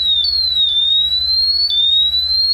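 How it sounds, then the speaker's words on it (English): A gas detector's shrill electronic low-level alarm tone holds steady, rising slightly in pitch every second or so, over a low pulsing hum. "we'll be able to silence these alarms"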